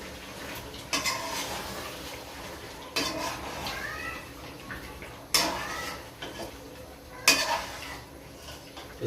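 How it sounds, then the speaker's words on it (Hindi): A spoon scrapes and clatters against a metal pan while mixing creamy white chicken karahi, four sharper knocks spaced a couple of seconds apart over a steady low hum, close by with no talk. "इसको अच्छी तरह मिक्स कर देंगे"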